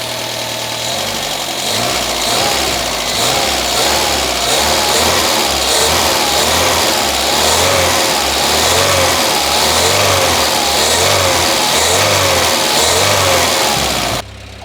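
A Citroen C25 camper van engine warming up while running rich, revved in a steady repeating rhythm of rising and falling bursts over a rough idle, loud and close, then cut off abruptly at the end.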